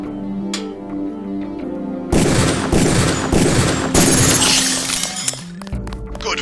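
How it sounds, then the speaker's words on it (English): Gunshots ring out on a training rifle range in Deus Ex, a loud burst of sharp reports with shattering, clinking impacts following a quieter opening with game music. "Release the second target and aim before shooting this time."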